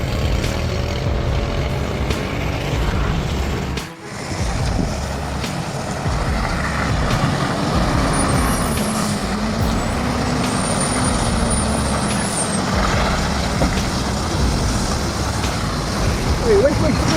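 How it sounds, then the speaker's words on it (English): A heavy wood-laden truck climbing a steep slope, its engine growling steadily and loudly throughout, with a brief dip in the middle and some rattling mixed in. "The growl of the engine is out of tune, the groan of the straining metal"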